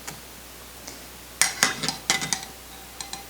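Peeled, cored pear halves set into a pot of simmering wine, giving a handful of close, sharp clinks and knocks spaced over a few seconds against a quiet background.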